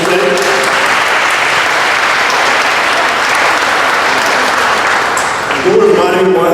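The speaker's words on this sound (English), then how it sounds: "Round of applause for our panelists today." An audience claps steadily for a symposium panel, dense and sustained throughout, easing slightly near the end before a brief swell.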